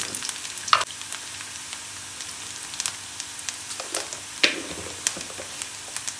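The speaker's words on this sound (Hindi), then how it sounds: "प्याज का कलर और मिर्चें फ्राई हो गई हैं और ये हमारा बघार तैयार है।" Whole red chillies and cumin sizzle in hot oil for a tempering over onions, a close, continuous frying hiss with occasional sharp pops and spatters and light stirring scrapes.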